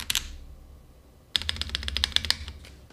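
Keys clatter on a DAXA M82X Ultimate mechanical keyboard: a few isolated clicky strokes, a pause, then a quick close run of crisp keystrokes.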